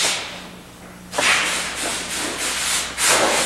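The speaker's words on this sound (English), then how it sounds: "how we hand sand the body wings to as fine as perfection as we can detect with the best tools" Close, brisk strokes of hand sanding on a wooden bass guitar body: a quiet pause, then repeated rough swishing passes, each a gritty rasp.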